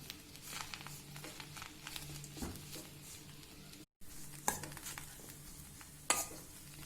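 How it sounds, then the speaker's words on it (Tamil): Bread pieces frying in ghee in a pan for bread halwa give a quiet steady sizzle with soft stirring scrapes and occasional clinks of a spoon against the pan, close and without talk, broken by a brief cut of silence. "இது எல்லாமே நம்மளுடைய நெய்யில் ஃப்ரை ஆகிட்டு வரணும்."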